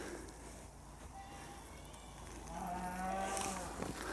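Cattle on a snowy Tennessee farm moo a few times, with one fainter low call early and a longer, louder moo near the end, heard over steady outdoor background noise.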